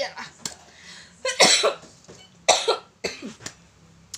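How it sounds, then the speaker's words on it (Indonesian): A person coughs several times in short, harsh bursts, with pauses between, close to the microphone. "Aduh, batuk."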